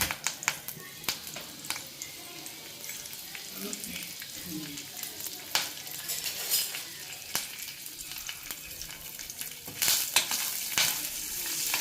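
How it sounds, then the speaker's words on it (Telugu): Mustard seeds, asafoetida and curry leaves fry in hot oil, giving a soft continuous sizzle with small crackles and pops, faint stirring clinks throughout and a brief louder spatter near the end. "ఆవాలు ఇంగువ కరివేపాకు లోపల పెట్టండి కరివేపాకు"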